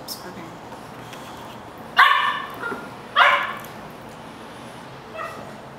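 A dog gives two sharp barks about a second apart, then a softer yip, over a low hiss of background noise.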